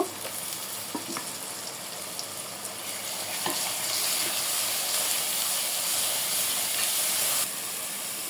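Spices for a curry fry in a pan with a steady, close sizzling hiss, plus a few soft scrapes and clinks early on and louder spitting toward the end.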